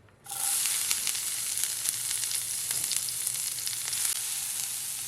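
Chopped onion and green chilli hit hot oil already fried with asafoetida, bursting into a loud, steady sizzle that starts abruptly and holds evenly without pause.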